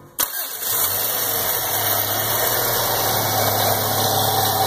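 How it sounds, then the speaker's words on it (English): A 1992–94 Subaru EJ22 flat-four, hot-wired into a VW Beetle, cranks with a sharp start and catches, then settles into a steady, loud idle that runs close and unbroken with no talk. "Just have to hit the starter here."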